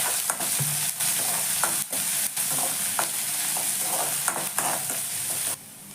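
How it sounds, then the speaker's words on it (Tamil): Ginger, garlic and green chilies sauté in a hot pan with a steady, hissing sizzle, broken by repeated scraping stirs of a utensil over several seconds. "இஞ்சி பூண்டு பச்சை மிளகாய் இது 3த்தையுமே போட்டுக்கலாம். போட்டுட்டு இதை நல்லா வதங்கட்டும்."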